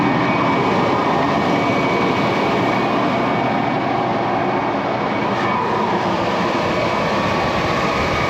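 A tractor's PTO-driven seed drill runs at 1000 revs while sowing oats in a field, producing a steady, loud mechanical drone that holds constant throughout.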